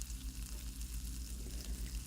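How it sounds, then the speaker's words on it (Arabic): Chopped onion and garlic frying in a pan, a steady close sizzle with soft crackle running throughout, no voices. "راس بصل مقطع ويحمر"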